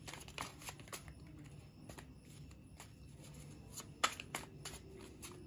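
Tarot cards are shuffled by hand in a quiet room, a series of soft riffling and tapping bursts with one sharper snap partway through, close and faint, with no talking.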